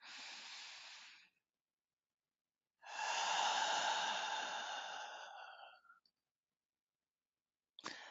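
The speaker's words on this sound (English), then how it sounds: "Take a deep breath" A slow, deep breath is drawn and released nearby, soft and airy. It is a short inhale, then a long exhale lasting several seconds with silence around it, and a faint breathy start at the end.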